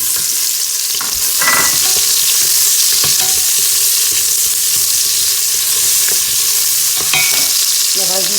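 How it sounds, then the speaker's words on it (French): Onions sautéing in a pan for a chicken and vegetable dish hiss in a loud continuous sizzle, with intermittent utensil scrapes and clinks while stirring up close. "je vais commencer par faire revenir les oignons"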